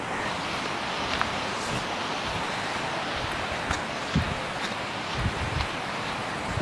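Water rushes steadily over the rocks at Maskanda Falls in Purulia, a continuous broadband roar close by with no voices.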